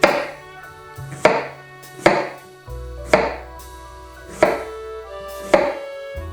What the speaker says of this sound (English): what we're going to do is very carefully cut wedges